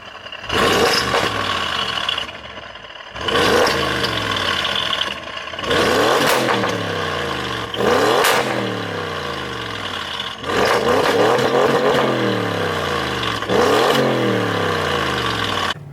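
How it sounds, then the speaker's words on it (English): An Audi S8 Plus V8 with an aftermarket Milltek exhaust revs repeatedly, each loud burst climbing sharply then falling back to idle, with short pauses between the revs. "you've obviously got the Miltech exhaust on it as well. Here's a clip of what that sounds like"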